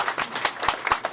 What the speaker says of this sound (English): Go ahead, you may applaud.